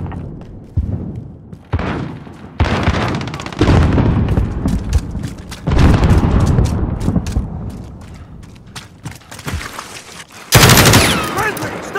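Rapid automatic gunfire and explosions in Call of Duty: Modern Warfare come as loud bursts of repeated shots, separated by short breaks, with a harsh, sharp volley at the end.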